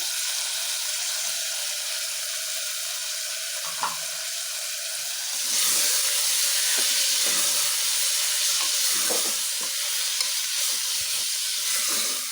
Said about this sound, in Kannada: ಈ ಥರ ಫ್ರೈ ಆದಮೇಲೆ ಅದಕ್ಕೆ ನಾನು ಕಟ್ ಮಾಡ್ಕೊಂಡಿರೋಂಥ ಟೊಮೊಟೊ ಹಾಕ್ತಾಯಿದ್ದೀನಿ